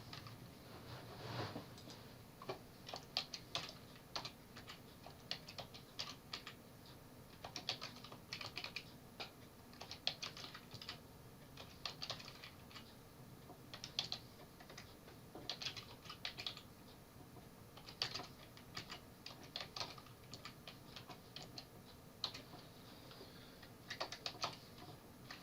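Rapid, uneven tapping of keys on a calculator keypad while a matrix calculation is entered, with soft clicks running steadily throughout and no talking.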